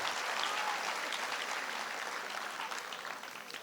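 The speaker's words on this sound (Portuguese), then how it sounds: "Vamos aplaudir essa turma maravilhosa." Audience applause fills a church gathering, a dense, even wash of many hands clapping at once that carries on steadily and fades slightly toward the end.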